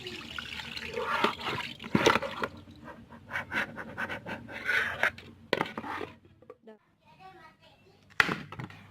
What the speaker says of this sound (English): wash the cassava until it is completely clean